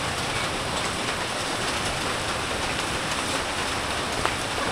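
Steady rain pours over a farm during Typhoon Kristine, a constant dense hiss drumming on surfaces with no breaks, loud and close throughout with no voices.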